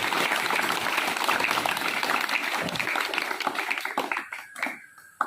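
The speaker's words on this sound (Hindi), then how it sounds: "एक बार ताली बजा लो" A group of children clap together in applause at a school talk, steady dense clapping filling most of the moment before thinning out and fading near the end.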